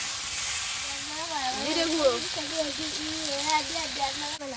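Vegetables with potato sizzle and hiss steadily in a hot pan while a person talks over the frying throughout.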